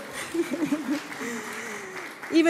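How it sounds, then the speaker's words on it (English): A Unitarian Universalist congregation gives a short round of applause in a hall, with voices and a little laughter mixed in over the steady clapping. "It's okay, you can clap."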